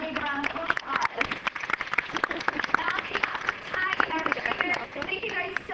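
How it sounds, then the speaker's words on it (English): Audience applause at a Steller sea lion show at the Vancouver Aquarium: dense clapping with cheers and children's voices mixed in, steady and lively throughout. "Let's all give him a big round of applause"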